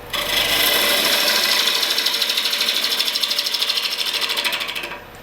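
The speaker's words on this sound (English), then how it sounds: "push a little faster and feed that tool through the wood a little faster" A wood lathe gouge roughs out a bowl, giving a steady scraping hiss with a rapid rhythmic chatter as the tool is fed through the spinning wood, loud and close, easing off at the end.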